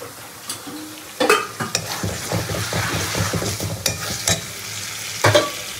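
Marinated meat and fried potatoes stirred into spiced masala in a hot pan, a loud close sizzle with repeated scraping strokes of the spoon and occasional clanks against the pan.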